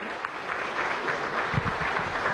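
Applause from the audience at the close of a meeting between President Maduro and a Chinese delegation, a steady wash of clapping with no one speaking over it.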